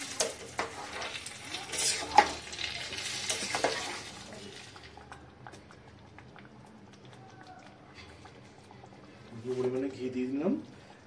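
Veg khichdi stirred as it fries in a pan: a few seconds of busy scraping and sizzling up close, then a quieter sizzle while a person talks over it.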